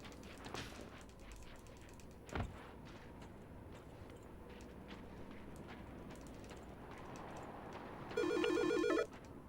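In the video game Silent Hill Shattered Memories, a phone rings with a bright electronic trill for about a second near the end, over a steady noisy game ambience and an earlier dull thump.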